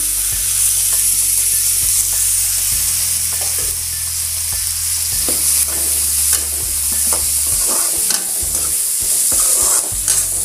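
Onions and tomatoes sauté in a hot pan for a colocasia fry, with a steady bright sizzle throughout, a low hum beneath, and repeated scraping strokes of a spoon stirring them, loud and close.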